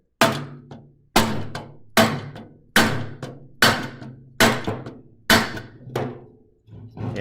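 Sharp, heavy hammer blows striking a flywheel to knock it free of its magnets, about eight loud ringing impacts at a steady rhythm, each decaying before the next.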